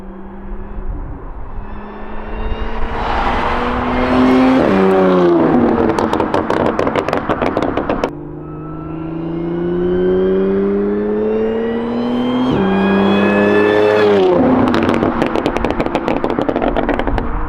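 A supercharged Audi S5 engine revs repeatedly, its pitch sweeping up and down with a loud, whining rise and harsh bursts, close and continuous.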